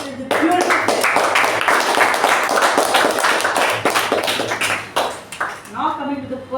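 A Toastmasters meeting room fills with a round of clapping from the members, loud and dense for several seconds, then thinning into scattered claps before a voice starts talking.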